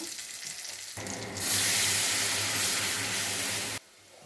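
Warm water poured into a pan of hot oily masala sets off a loud, sudden hiss and sizzle that holds steady for a couple of seconds, then cuts off abruptly.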